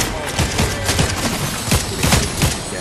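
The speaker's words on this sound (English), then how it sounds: "Why are they firing at me?" Fortnite gunfire crackles as dense, repeated bursts of shots and thuds layered over busy game noise.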